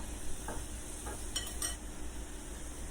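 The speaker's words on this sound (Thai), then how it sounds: "แล้วก็ผัดคลุกเคล้าเข้ากันค่ะ" Beef naem is stir-fried with sauces in a wok, a soft low sizzle broken by a few spatula scrapes and light metallic clinks.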